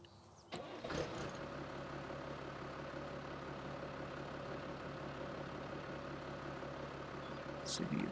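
A Kubota tractor engine in Farming Simulator 19 starts up with a sharp burst, then settles into a steady, loud, continuous idle rumble that holds for several seconds, with a brief hissy rise near the end.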